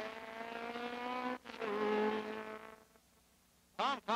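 A Formula Atlantic race car, Chevron or Lola, at a 1976 Canadian Atlantic Series round in Quebec, holds a loud, high engine note, rising and falling through gear changes. It fades off, then another car swoops past near the end.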